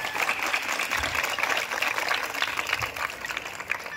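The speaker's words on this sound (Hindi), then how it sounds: "एक बार सबके लिए ताली बजाइए आप लोग।" An audience claps for a children's garba dance at a sanitation-workers event in Indore, a dense, steady burst of applause at moderate loudness with no talking.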